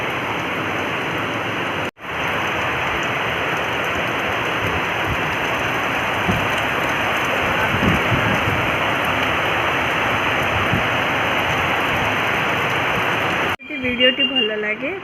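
Continuous rain falls in Mumbai as a steady, even hiss of water for most of the stretch, briefly cut off near the start and ending with a short burst of other sound.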